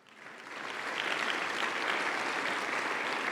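A Sunday church congregation breaks into applause during a sermon, a broad, steady roar of many hands that swells up quickly and holds loud and even, with no voices above it.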